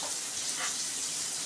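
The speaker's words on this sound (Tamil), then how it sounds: "நல்லா வதக்கிக்கோங்க." Ingredients for pidi karunai kara kuzhambu sautéing in a pan, a steady close hiss and sizzle running without break, alone.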